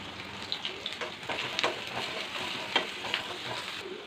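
Mustard seeds, cumin, tempering spices and dried red chilies fry in hot oil with a soft, steady sizzle. Scattered small pops and crackles sound close by, without speech.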